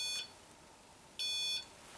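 Two short, bright electronic beeps from a motion-triggered device with a red light sound about a second apart inside the Blacksmiths Arms pub. Each is a high, steady tone lasting a fraction of a second, against a quiet background.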